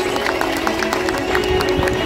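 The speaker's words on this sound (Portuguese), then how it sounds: "uma salva de palmas especial para eles" Crowd applause at an outdoor political gathering on Avenida dos Estados, Santo André, steady clapping and cheering throughout the short span with a dense, continuous wash of hands and some crowd noise.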